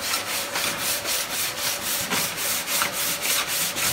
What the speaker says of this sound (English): it's a like a body file for metal finishing